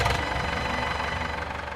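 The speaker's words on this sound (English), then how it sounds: "Tractor is the only realistic way to mow the lawn." A tractor engine runs steadily while mowing the lawn on a large stately-home estate, a continuous close rumbling drone with a faint rhythmic pulse and no talk.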